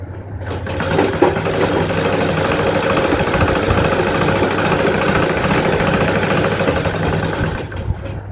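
A sewing machine stitches a seam on a chudithar in a steady, close, continuous whirring run with a fast mechanical rhythm, slowing briefly near the end. No voices are heard.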